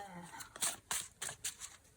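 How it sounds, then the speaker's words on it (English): Several quick papery riffles and snaps of a Creative Mojo card deck being shuffled, in short bursts about every quarter second, with faint talk in the background. "Let's just shuffle, shuffle, shuffle."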